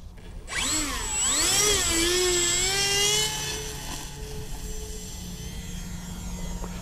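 The electric motor of an Avios Albatross HU-16 RC plane spins up with a rising whine, holds at a high buzzing pitch, then eases down to a steady quieter hum, with no talking.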